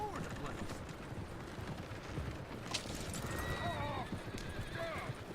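Horses in Red Dead Redemption 2 whinny and neigh in rising bursts while hooves clip-clop steadily underneath a noisy, busy game scene, with a voice speaking briefly.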